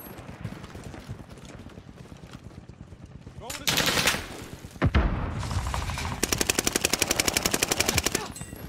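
Rapid gunfire from the Modern Warfare game Call of Duty with a KAR98K rifle on Fortune's Keep, mixing sharp single shots, a loud burst and a fast rattling automatic string, with faint talk early on.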